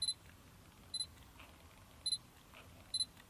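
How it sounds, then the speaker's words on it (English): Four quick, high double beeps from a Sony Alpha A7R II confirming autofocus sound at a steady pace, each a pair of short electronic chirps, over quiet background hiss. "Hopefully hear that double beep confirmation sound."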